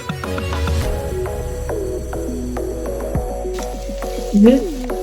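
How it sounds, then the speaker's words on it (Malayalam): Curry leaves, ginger, green chillies and garlic saute in hot oil for Kerala-style beef pickle, a continuous close sizzle with a few sharp utensil clicks and a brief louder stirring burst near the end. "ഈ കറിവേപ്പിലയും ഇഞ്ചിയും പച്ചമുളകും വെളുത്തുള്ളിയും എല്ലാം കൂടെ നന്നായിട്ട് വഴുത്ത് വഴുത്തിയതിന് ശേഷമാണ്"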